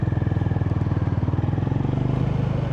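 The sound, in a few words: Honda GB350S single-cylinder thumper engine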